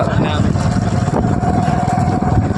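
A motorcycle runs along a village road with a steady engine drone, and voices talk loudly over the ride.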